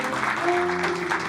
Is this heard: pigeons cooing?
no